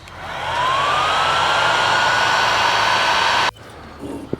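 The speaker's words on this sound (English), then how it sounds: "add a little bit of heat to this, just to kind of help soften up this adhesive" A heat gun blowing hot air onto trunk adhesive on a 2021 Camaro ZL1 makes a loud, steady close-up whoosh that swells in over half a second, holds for about three seconds, then cuts off abruptly.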